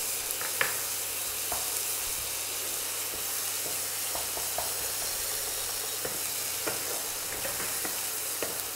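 Ginger garlic paste sizzles in a pan with frying onions for a potato, cauliflower and pea dish, a steady soft hiss with faint stirring clicks and scrapes throughout.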